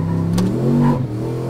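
A Gen V Chevrolet Silverado pickup with an L86 engine revs hard while spinning its tires on a dyno just outside the Mexican border, a loud, close, steady engine roar that climbs in pitch and then settles back.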